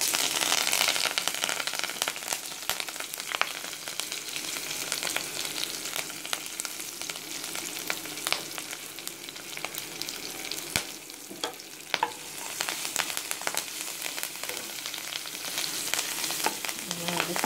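Spices tempering in hot oil in a kadai give a continuous crackling sizzle with scattered sharp pops and spatters, fairly close and steady throughout.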